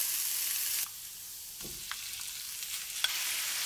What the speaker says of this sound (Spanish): Y en mi sartén con un poco de aceite, voy a sofreír la cebolla